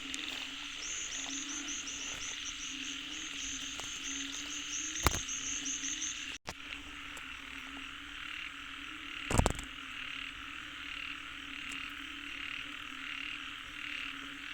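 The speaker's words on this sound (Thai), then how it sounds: "กบตัวที่สองนะครับ" Frogs croaking in a rainy forest, a steady chorus of rapid pulsing calls mixed with insect buzz and a constant hiss, broken by a couple of sharp knocks.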